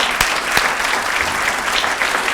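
Audience applause at a university business college's distinguished alumni awards ceremony, steady dense clapping throughout with a couple of sharper claps near the start.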